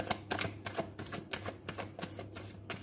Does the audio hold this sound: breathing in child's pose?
no